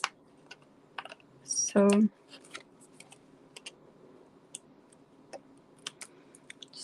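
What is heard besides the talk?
trimming card paper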